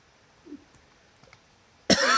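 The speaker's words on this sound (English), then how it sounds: "Sorry for all the coughing." A single sharp cough bursts out loudly near the end after a quiet stretch with faint small noises.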